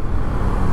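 A Honda Scoopy scooter fitted with a VIP Racing stage 1 kit revs hard under full throttle, giving a brief, steady, close engine roar.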